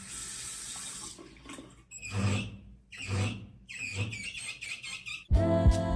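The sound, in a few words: hotel bathroom faucet running water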